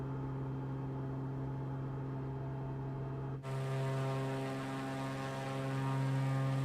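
An aircraft flies in Microsoft Flight Simulator 2024 over Madagascar, a steady droning engine hum with strong tonal bands that shifts abruptly to a brighter, fuller roar partway through and then holds.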